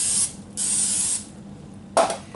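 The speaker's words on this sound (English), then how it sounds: "I'm going to spray my Pam in there." Pam cooking spray is sprayed into a muffin tin in three close hissing bursts, the first and second lasting about half a second each and the last one short.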